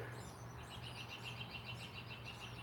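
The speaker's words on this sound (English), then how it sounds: "Know if y'all can hear the birds up behind me." Birds chirping from a nest near a driveway outdoors, with quiet, repeated tweets lasting the whole stretch over a low steady hum and no talk.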